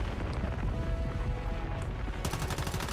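Rapid gunfire from a fast-firing gun in the survival shooter Once Human during a solo fight with the Forsaken Giant, a dense continuous barrage with sharper, brighter shots near the end and no talk.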